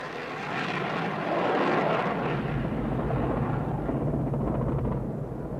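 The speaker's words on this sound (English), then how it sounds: "The Tornadoes continued to fly to attack a wide variety of targets." A Tornado military jet flying during the Gulf War: a broad, steady roar that swells slightly and then holds at a constant level, with no voices.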